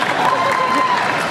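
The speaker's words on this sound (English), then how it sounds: "pausing for applause now" Convention audience applauding at a San Diego Comic-Con 2008 Friday the 13th panel, a steady dense wash of clapping and crowd noise filling the hall at an even level throughout.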